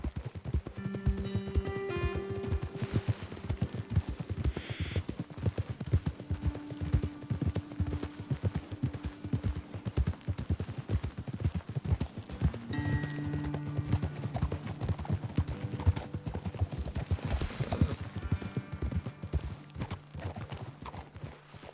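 Continuous rhythmic clip-clop of horse hooves at a steady trot, with a few tonal cues and a whinny, from the video game Red Dead Redemption 2.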